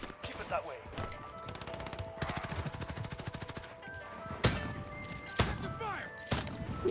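Bursts of teammate gunfire in Call of Duty Modern Warfare, rapid rattling volleys mixed with sharp louder cracks and other game effects, with talk over the top.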